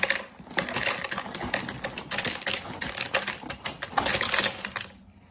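Cinnamon Toast Crunch cereal poured into a bowl, a dense clattering rattle of dry pieces landing close up for several seconds, then stopping abruptly.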